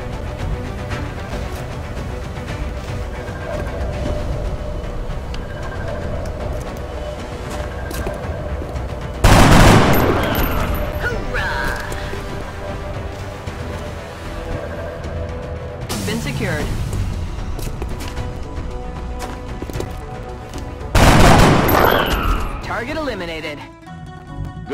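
Cannon blasts in XCOM: Enemy Within, three heavy booming shots spaced several seconds apart over a constant background of game noise and effects.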